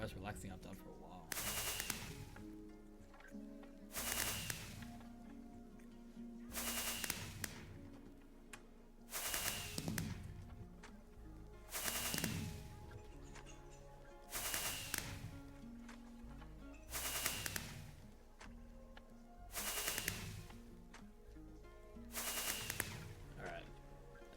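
Fireworks go off in a regular series of sharp bursts, roughly every two to three seconds, each a loud crackling bang, with faint talk and background sound between them.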